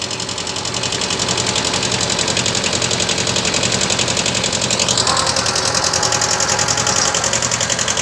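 A small tractor engine runs steadily in low reverse gear, a close, constant rhythmic chugging with a mechanical clatter throughout and no talk.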